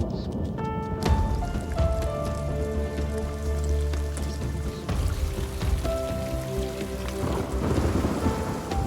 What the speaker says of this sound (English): After 200 days without rain, a storm gathers in the Zambian skies